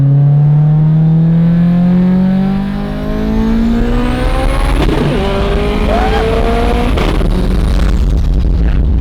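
A 1100hp Subaru STi accelerating hard on a street pull, loud rising engine harmonics climbing through the gears with a brief dip at a shift, close and continuous with no talk.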